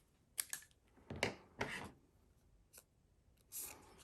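Scissors snipping through paper cardstock for a stamped easel card, a few short, quiet crisp cuts in close succession, spaced across a near-silent background.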